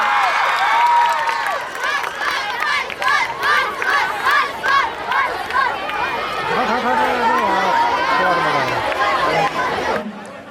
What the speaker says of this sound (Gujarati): જોરદાર તાળીઓ થઈ જાય આ પરફોર્મન્સ માટે.